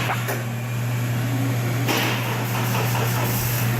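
A 2005 Honda Accord engine cranks on its starter during a starter diagnosis, giving a loud, steady mechanical whir with a strong low hum that runs unbroken for nearly four seconds.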